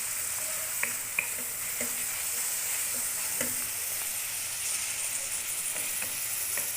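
Tinde gosht masala fries over high heat, giving a steady close sizzle and hiss with occasional soft stirring clicks and scrapes, no voices.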